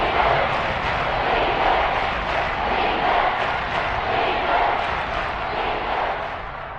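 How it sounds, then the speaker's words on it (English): A large crowd roars continuously in a football stadium during a game, a dense, sustained wash of cheering and shouting that holds steady throughout, loud and enveloping with no distinct individual voices. "the crowd getting into it as we come up on a big 3rd down"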